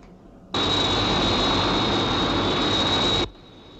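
Sky One interceptor aircraft roars loudly at full thrust as it takes off and flies, a sudden sustained jet-like rush with a steady high whine that cuts off abruptly after about three seconds.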